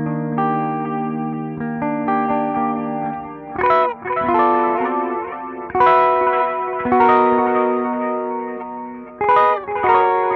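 Electric guitar through a Line 6 POD Go delay modeled on the EHX Deluxe Memory Man, sustained chords and picked notes trailing into lush, chorused echoes, loud and alone with no talking.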